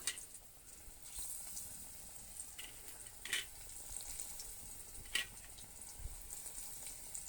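Oil sizzles and crackles steadily as eggplant slices fry in a pan, with occasional sharper pops and clinks of a utensil; no talking.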